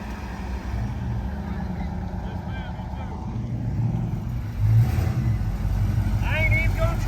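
A truck does a burnout at a car show: a deep engine rumble builds and roars louder partway through, with people talking over it.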